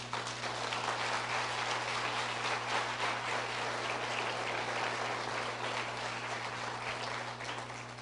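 A church congregation applauding, a dense, even wash of clapping that stays steady throughout, moderately distant over a low electrical hum, no voices.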